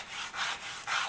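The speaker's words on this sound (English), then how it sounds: "So as I work this down," Close, soft abrasive rubbing on a wooden dowel sanded by hand, a few back-and-forth strokes, with no voices.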